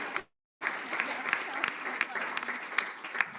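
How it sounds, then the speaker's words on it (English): A live audience at a pitch event in Geelong breaks into sustained applause, dense clapping that carries on after a brief silent gap, with a voice faintly heard under it. "So give yourself a round of applause."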